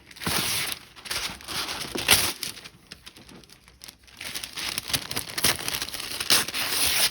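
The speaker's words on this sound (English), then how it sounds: "Parchment paper." Parchment paper bought from a dollar store is handled for sublimating slides, crinkling and rustling steadily with soft crumpling bursts close to the microphone, with no one talking.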